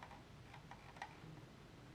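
Faint, quick ticking clicks, a few light notches in a row, from a gaming mouse scroll wheel turning in a quiet room.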